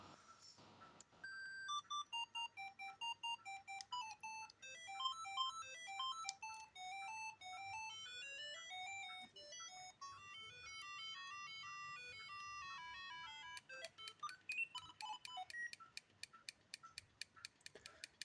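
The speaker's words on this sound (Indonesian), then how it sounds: "Jadi kita sekarang coba ke ringtone dulu." Ringtone from a Siemens A55 mobile phone, a bright, beeping polyphonic tune of quick repeated notes and rising runs, thin and faint, playing alone for well over fifteen seconds.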